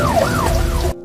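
An ambulance siren from a Korean drama wails in a rising and falling tone, loud and close, alone for about a second before cutting off abruptly.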